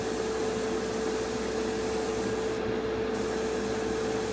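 Steady, continuous rubbing on a plastic model kit of a Revell Colonial Viper, scuffing paint laid over hairspray to chip it, with a constant close dry friction sound throughout.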